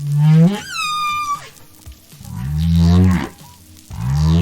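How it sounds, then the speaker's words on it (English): Humpback whale song from New Caledonian humpbacks sharing the songs of Australia's east coast whales: loud, drawn-out moaning calls, one sliding upward whoop followed by deep, swelling groans, heard alone. "New Caledonian humpbacks learned the exact sounds made by whales from Australia's east coast, and the songs go something like this."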